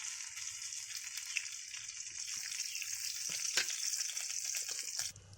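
Whole garam masala, bay leaf and dried red chilies fry in oil in a kadai, giving a steady, close hiss and crackle that keeps going for the whole stretch with no voices.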